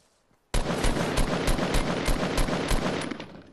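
Sustained automatic gunfire in the Fortnite video game, a rapid burst of loud, evenly spaced shots that starts abruptly after a brief quiet moment and runs without any talking.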